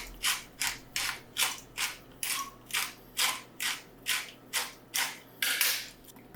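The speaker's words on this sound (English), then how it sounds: "Salt, freshly cracked black pepper" A pepper mill grinding freshly cracked black pepper, about a dozen evenly spaced rasping twists in a steady rhythm, close and distinct with no talking.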